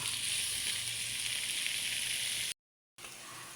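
A hotdog fries in a pan with a continuous, close, crackling sizzle, broken once by a short gap of silence before the sizzling resumes.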